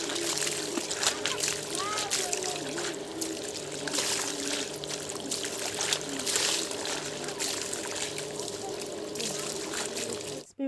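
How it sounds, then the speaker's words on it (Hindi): Leafy greens fresh from the fields are dunked repeatedly in a bucket of water, making continuous splashing and sloshing under steady talking. "हम बाल्टी में दोस्तों पानी भर रहे हैं और सभी साग को दोस्तों हम अच्छे से डुबो डुबो करके साफ़ कर लेते हैं"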